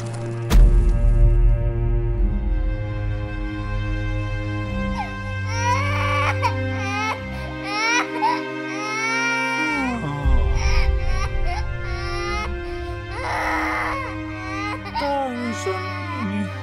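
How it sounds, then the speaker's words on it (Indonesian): A small child cries loudly in a cartoon, wailing sobs that rise and fall in long drawn-out bursts over a low background score, sustained from start to finish. "baru kali ini aku mendengar suara tangisan anak kecil"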